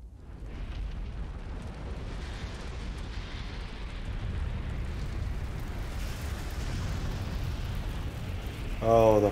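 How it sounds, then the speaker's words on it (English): Fire burns in the Elden Ring video game with a steady, low roaring rumble that slowly builds, and a brief voice cuts in at the very end. "Oh, the fire is going now."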